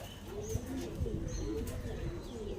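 Punjabi pigeons, a male and a female, coo nearby in soft repeated throaty calls, with light rustling and a faint voice in the background.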